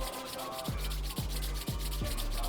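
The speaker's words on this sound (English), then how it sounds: "now we're just going to rub our palms together" Palms rubbing briskly together during a qi gong exercise, a close, soft, steady swishing friction with a few rhythmic strokes, heard alone.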